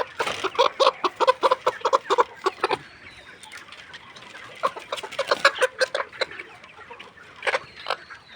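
A layer hen clucks in bursts of quick, close, fairly loud clucks, with a short lull in the middle before the clucking resumes.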